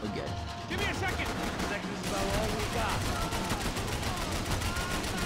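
Gunfire in the Max Payne 3 video game during a boat chase, a dense stream of rapid shots and crackling bursts running throughout, loud and continuous, with a voice talking over part of it.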